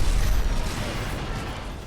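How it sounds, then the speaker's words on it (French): An explosion in the shooter game Titanfall 2, a loud, broad rumbling roar that starts strong and slowly tapers off over about two seconds. "L'explosion la moins dramatique au monde."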